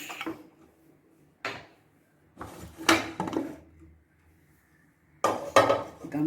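A pressure cooker of mutton biryani is opened with a few separate metallic clanks and knocks of the lid and weight, spaced out with quiet gaps between them, close by and with no talk.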